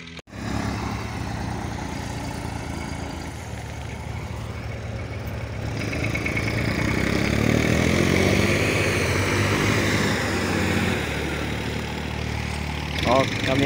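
A 2009 Ford Cargo 2422 dump truck idles with a steady low diesel rumble, its engine note swelling slightly midway while someone talks nearby over it.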